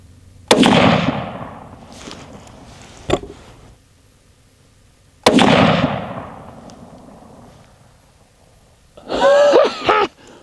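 A Remington rifle fires twice, seconds apart: sharp, loud cracks that ring out and decay over about two seconds each. A faint click comes between them, and a short burst of voice follows at the end.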